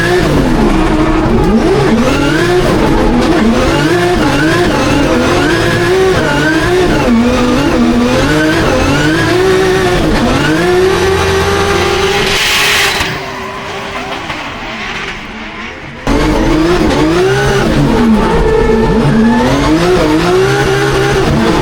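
Onboard a drift car at a Drift Masters round in Finland, the engine revs hard and rises and falls through repeated throttle bursts, with tire squeal throughout and a brief drop to quieter running midway before the revving returns.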